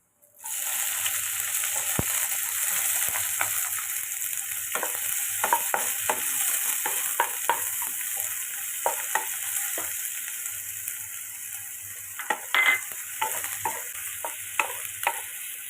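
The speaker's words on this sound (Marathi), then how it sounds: "कांदा पण आपण आता सोनेरी भाजून घेऊया." Onion frying golden in a pan after garlic, with a steady sizzle and scattered scraping stir clicks, close and continuous throughout.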